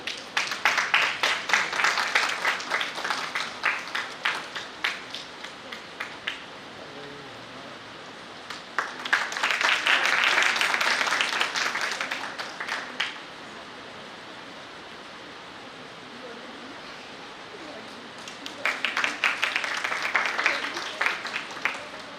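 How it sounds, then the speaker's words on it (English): At a national seminar in an academic hall, the audience applauds in three separate bursts. Quieter gaps between the bursts hold only faint room noise, and the clapping swells and fades each time. "Give a big round of applause once again."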